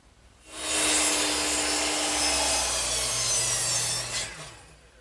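A saw cuts through wooden molding in a woodworking shop: one steady, loud, close cutting pass lasting several seconds that starts abruptly and tapers off at the end.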